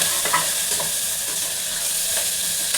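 Finely chopped onion frying in hot oil with burnt spices, a loud, continuous close sizzle with light clinks of stirring.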